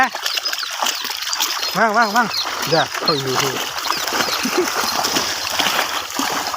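Water splashing and sloshing, continuous and fairly near, while people shout and call out over it.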